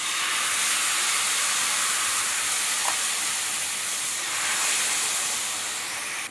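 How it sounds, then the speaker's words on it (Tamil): Dosa batter poured onto a hot, oiled cast griddle for instant benne dosa gives a loud, steady broadband sizzle and hiss that holds near and constant for about six seconds with no talk. "நம்ம இதில் அப்படியே தோசை ஊற்றிக்கலாம்."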